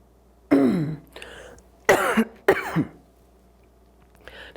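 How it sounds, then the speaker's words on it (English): A person coughing in several harsh, close bursts, some doubled, separated by short quiet gaps, with a fainter throat-clearing at the end. "There's a lot of coughing"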